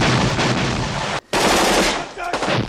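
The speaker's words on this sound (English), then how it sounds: "the gun sounds in this film are excellent" Machine gun fire from a combat ambush scene in the 1986 war film Platoon, loud, dense bursts of automatic gunfire that break off briefly for a split second, then resume with heavy weight and ringing tails.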